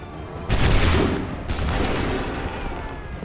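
A musket volley in Assassin's Creed 3 battle, a loud massed crack of many muskets firing at once followed by a second ragged burst, then rolling echo and battlefield noise.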